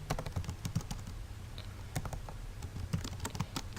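Someone types on a computer keyboard in an irregular run of crisp, close key clicks with brief pauses between short bursts. No voices are heard.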